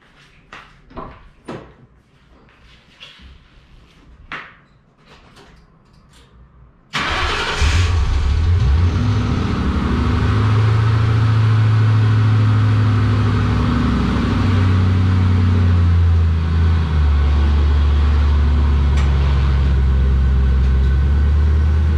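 A Ford Mustang Mach 1, fresh from new spark plugs, coil boots and belt pulleys with tensioner, starts after a few clunks and rattles, then settles into a loud, steady, deep idle close by.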